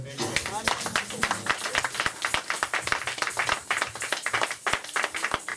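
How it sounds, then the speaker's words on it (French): A church congregation applauding in worship, with energetic irregular clapping from many hands throughout and voices calling out over it. "Acclamons pour la gloire."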